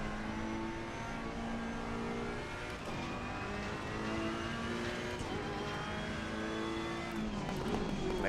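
A race car laps the Hungaroring in Assetto Corsa Competizione, its engine note rising and falling through gear changes at moderate volume, with revving tones and brief shifts continuing steadily without speech.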